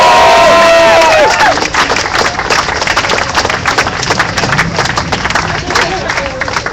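An outdoor Restore the Fourth rally crowd cheers, whoops and claps loudly and steadily, with scattered shouts rising above dense close-up crowd noise throughout.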